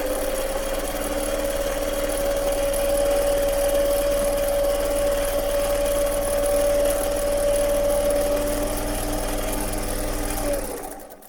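A Pfaff 230 sewing machine runs continuously with a steady whirring hum and fine rapid stitching rhythm, close and unbroken for about ten seconds before stopping abruptly.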